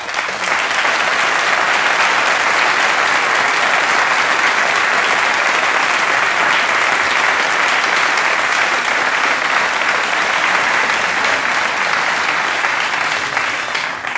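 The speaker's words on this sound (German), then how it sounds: "Jubel allenthalben" Loud, sustained applause from a large crowd at an indoor sports event after a high jump record, dense and steady throughout with cheering mixed in.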